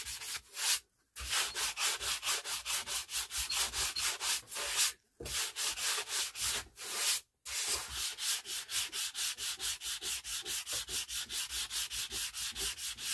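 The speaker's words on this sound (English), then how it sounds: "So I'm going to continue sanding, guys. Get it all nice and smooth." Rhythmic hand sanding on the wood of a 1940s Motorola table radio, quick regular back-and-forth strokes with a rough scratchy rasp, pausing briefly a few times before continuing steadily.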